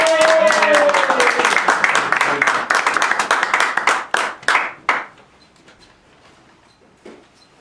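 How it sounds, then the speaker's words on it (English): Applause for a speech evaluator at a Toastmasters meeting, a small room of people clapping steadily before it fades into a few last isolated claps and quiet. "So please give a huge round of applause to Bijan."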